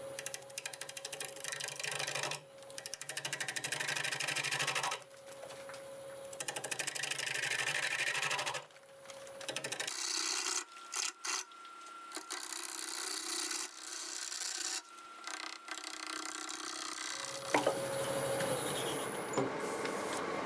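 A wood lathe takes light cuts with a 5/8 bowl gouge in cherry crotch wood at about 760 RPM, giving a scraping, whirring hiss in several bursts separated by pauses.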